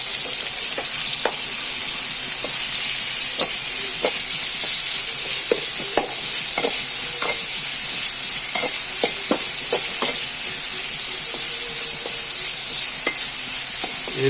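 Onions fry in a pan for Bangude Pulimunchi fish curry, a steady, loud sizzle running throughout with scattered sharp clicks and scrapes of stirring, no voices.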